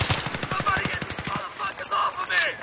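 M5K submachine gun firing in Battlefield 3: a rapid, close burst of shots lasting over a second, then quieter background game sounds.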